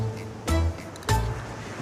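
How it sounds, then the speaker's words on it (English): Small shore-break waves on an ocean beach, two distinct crashing surges about half a second apart over a continuous low wash of surf and wind, fairly close. "We'll start off gently with a small shore break."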